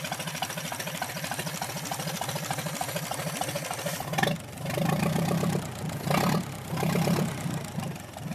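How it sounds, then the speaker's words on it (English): A 1928 Chevrolet Coach engine runs with a steady, rhythmic mechanical clatter, close and fairly loud, then surges into a fuller, louder roar that rises and falls. "I'm going to let it run for a few minutes just to dry it out, and then I'll shut it off."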